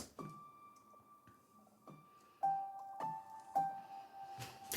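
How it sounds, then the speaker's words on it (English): Piano line pitched up an octave with auto shift and formant processing, thin glitchy tones with wobbling pitch and sparse clicks, played quietly as short separated notes. "I added an auto shift to it and I'm pitching it up 1 octave with a bit of formant as well"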